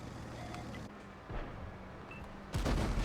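A tank gun fires in World of Tanks as an Object 252U takes a shot. A single heavy boom lands near the end over quieter engine and battle ambience.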